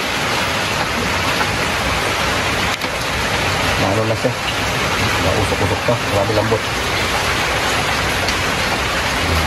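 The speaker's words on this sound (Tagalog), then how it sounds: "umuulan kasi sa amin mga bi" Steady rain falls throughout as a dense, even hiss, while people talk close by over a home meal of pork adobo humba.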